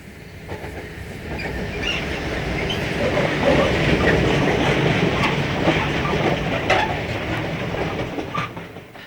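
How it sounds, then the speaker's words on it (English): Class 66 locomotive 66102 hauling a Newport to Westbury cement train on the outskirts of Bristol, a rumbling rolling passage of wagons with clickety-clack wheel beats, building to a peak and easing away. "This is 66102 with the Newport to Westbury cement train."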